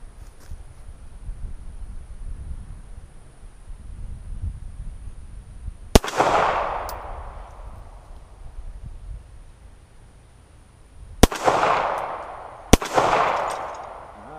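Three sharp pistol shots from a Star BM handgun loaded with steel case ammunition, one near the middle and two close together near the end, each cracking loudly and ringing off over a quiet outdoor background.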